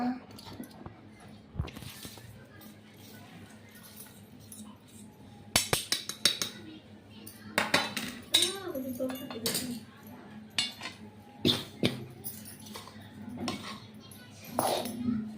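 A spoon stirs nachni (ragi) ladoo mixture in a bowl for a home recipe, giving irregular scrapes and sharp clinks against the bowl, with louder bursts of knocking in the middle stretch, under faint background voices.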